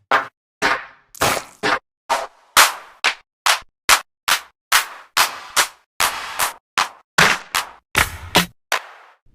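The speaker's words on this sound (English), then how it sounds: "Let's take a listen to a few of the claps." A series of punchy electronic drum machine hand claps, about twenty separate hits played one after another with brief gaps between them.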